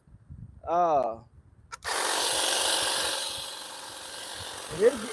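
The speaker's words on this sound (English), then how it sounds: "this is a hedge trimmer" A 40-volt battery-powered hedge trimmer with long teeth runs with a steady, fairly loud motor whir for several seconds after a brief voice, then a short spoken sound near the end.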